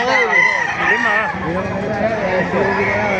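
A rooster crows loudly and close at a chicken market in Baliuag, overlapping with other birds, against a background of people talking.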